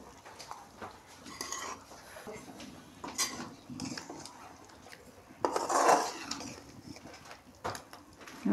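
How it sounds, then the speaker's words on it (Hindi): Chicken leg piece masala made with yogurt, fried and stirred in a pan: intermittent clinks and scrapes of a spoon against the pan, with a louder sizzling scrape midway, fairly quiet overall. "थोड़ा सा भून लेते हैं, बस इसमें थोड़ा सा सालन लगाऊंगी मैं"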